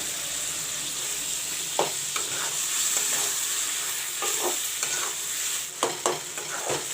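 Tomatoes frying with ginger garlic paste in a pan, a steady sizzle with occasional stirring scrapes and clinks, close and continuous with no talking.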